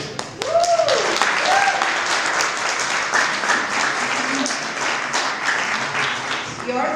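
Audience applause fills a community arts center celebration after a performance-venue renovation in Tamaqua, a loud, steady wash of clapping that starts abruptly and continues throughout.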